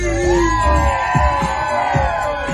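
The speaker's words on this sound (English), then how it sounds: "Everybody let me hear y'all scream" A crowd at a Philly sports event yells and cheers in a steady, dense roar, with scattered whoops and shouts rising over it throughout and no clear talk.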